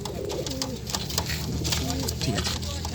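Pigeons coo repeatedly at the Konnagar pet market, soft rolling calls overlapping one another against a busy background of crowd voices and market bustle.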